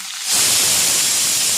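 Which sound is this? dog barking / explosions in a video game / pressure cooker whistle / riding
pressure cooker whistle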